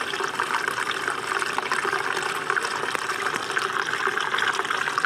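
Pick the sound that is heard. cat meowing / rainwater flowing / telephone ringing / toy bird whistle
rainwater flowing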